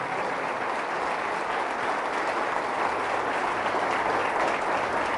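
A church congregation applauds Jesus of Nazareth at a sermon, with steady, sustained clapping from many hands that fills the space evenly without a break.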